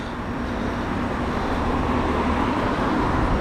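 Continuous broadband road traffic noise with a low rumble, heard at a distance from the road, holding steady without distinct passing peaks and with no talk.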